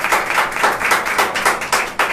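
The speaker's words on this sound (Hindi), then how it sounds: "जोरदार ताली हो जाए प्रभु यीशु मसीह के लिए।" A congregation at a church fasting prayer gathering claps loudly in a quick, even rhythm of close, sharp hand claps that carries on steadily.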